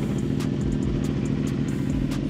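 A CFMOTO 450SS motorcycle engine idling steadily just after a cold start, a close, even low rumble with faint ticking clatter running throughout and no talk over it.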